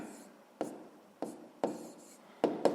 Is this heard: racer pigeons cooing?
no